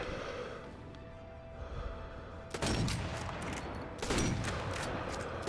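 Gunfire in Sniper Elite V2 Remastered, starting with a quieter stretch of distant battle noise and then two loud, sharp bursts of shots with echoing tails a second and a half apart.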